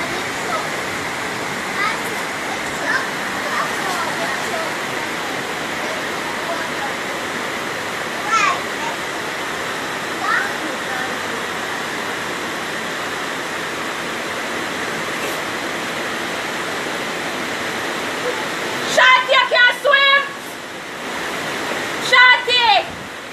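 Flood water rushing over a road in a steady, loud roar like a waterfall, continuous throughout, with a few brief voices and knocks in the last seconds.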